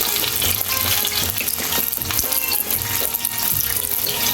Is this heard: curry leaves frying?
yes